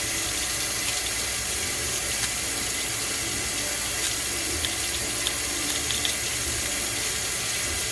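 Tap water runs steadily into a sink over plátanos being washed for frying, a loud, even hiss and splash close by that continues throughout.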